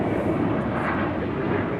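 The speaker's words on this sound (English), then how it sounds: "Asiana Airlines A350-900 coming in from Seoul." An Asiana Airlines A350-900 arriving at LAX from Seoul, a steady broadband jet roar holding level and loud through the short stretch with no talk.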